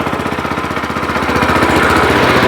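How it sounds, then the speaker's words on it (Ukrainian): A walk-behind tractor (motoblock) engine runs loud and close with a fast, steady mechanical chug that rises slightly in intensity, alone without talk. "Все працює, все дуже добре. Мотор слушно працює."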